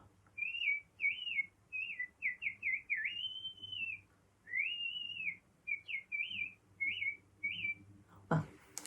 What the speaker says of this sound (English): a very small wren hopped onto the open window ledge in the kitchen and sang a beautiful strain of birdsong.